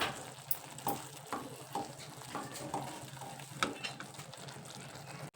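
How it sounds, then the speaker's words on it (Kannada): A spoon works through thick coconut candy in a pan, scraping and stirring in irregular strokes over a soft sizzle, close and fairly quiet, with no voices. "ಈಗ ಒಟ್ಟು ಹಿಂಗೆ ಕೈ ಆಡ್ಸನೇ ಇರ್ಬೇಕು ರೀ, ಅಂದ್ರೆ ತಳ ಇಡಂಗಿಲ್ಲ."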